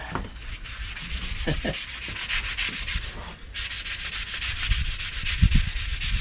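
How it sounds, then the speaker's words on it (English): Steady, rhythmic rasping of hand sanding on rough wood, stroke after stroke, close up and fairly loud, with a few soft knocks underneath. "I have to sand this one."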